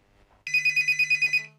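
A telephone rings alone in a quiet room, a steady electronic trill pulsing about eight times in quick, even bursts, loud and close, after a brief soft rustle.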